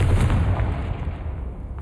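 Confringo fire spell blasting in the video game Hogwarts Legacy, a loud, dense explosive burst with heavy low rumble that fills the short clip without letting up.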